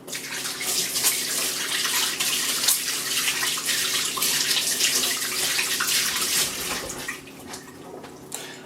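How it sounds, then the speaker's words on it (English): Hands are rinsed under a running kitchen tap, a steady broadband rush of water close by, holding level for most of the clip before easing slightly near the end; no talking. "Okay, so now I'm going to wash my hands quickly."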